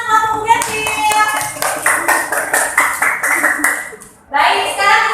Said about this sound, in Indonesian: tepuk tangan untuk kelompok Bougainville